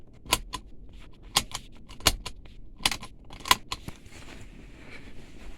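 Seat belt buckle on a 2011–2016 Kia Sportage, freshly sprayed with WD-40. Sharp metallic clicks and latching snaps come close by at an irregular pace over soft rustling, with no speech.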